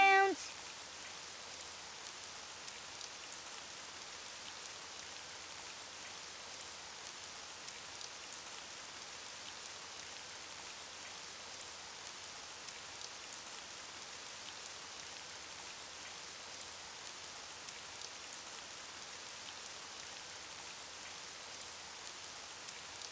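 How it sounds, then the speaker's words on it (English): Steady rain falls in a children's cartoon, a soft even hiss of drops that continues unchanged for the whole stretch, with no voices. "it's raining outside"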